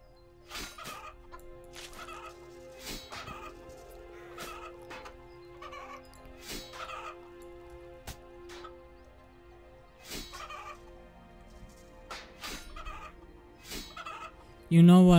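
Chickens clucking and gobbling in a video game, steady scattered fowl calls over a looping background with a sharp loud burst at the end.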